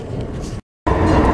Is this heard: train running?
yes